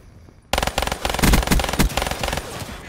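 Rapid bursts of gunfire from a pistol in Call of Duty Black Ops 3, a string of sharp, loud shots in quick succession after a brief quiet start, with no talking.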